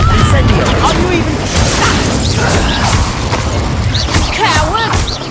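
Rapid spell blasts from a wizarding video game, Confringo and Incendio, crack and boom with whooshing bursts over dense combat noise, while a voice shouts spell names throughout.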